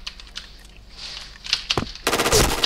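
Burst of rapid gunfire in a tactical shooter video game, coming in loud near the end after scattered clicks and softer shots, with no talk over it.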